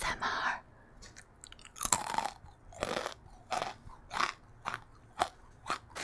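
Crunching and chewing on Korean chocolate-filled puff snacks, with a series of sharp, close bites and crackly crunches recurring roughly every half second to second, loud and upfront with no talking.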